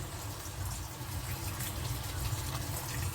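Water poured into a cooking pot of spinach and pork, a steady gushing fill with a low rumbling tone, continuous and close for a few seconds.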